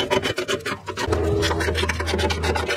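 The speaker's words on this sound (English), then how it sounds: "we have to loosen these bolts here," Close scraping and ratcheting as 12mm bolts on a Toyota Land Cruiser catalytic converter shield are loosened, a rapid rasping rhythm with a low steady hum joining partway through and no speech.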